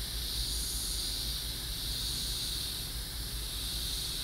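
An airbrush sprays paint onto a board in a steady, continuous airy hiss that holds at even loudness close by, with no breaks and no talking.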